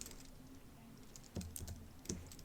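Code is typed on a computer keyboard in quick, faint bursts of scattered key clicks, with a few sharper taps standing out against quiet room noise.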